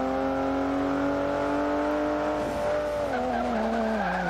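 Car tires skid and squeal in a BMW 1 Series M race car in Forza Motorsport 5, a steady high whine over the engine drone that wavers and drops in pitch near the end.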